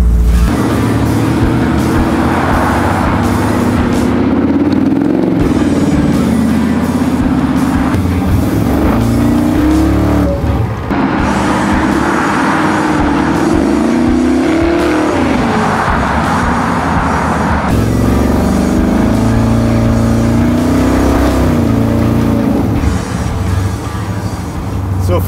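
A Chevy C10 restomod truck engine of about 400 horsepower drones loudly while driving at light throttle, heard from inside as a steady rumble with rising and falling revs in repeated surges.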